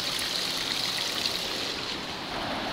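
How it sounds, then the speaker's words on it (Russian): A river in the mountains rushes steadily far below, a continuous broadband wash of flowing water with no voices. "далеко внизу шумит река"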